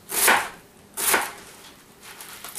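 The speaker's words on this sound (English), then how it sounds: "I'm going to cut the ends first, and I'm going to chop them kind of small" Knife chopping through the fibrous ends of a bunch of leafy greens on a cutting board, two distinct crisp cuts about a second apart followed by a softer third, close up, with no talking.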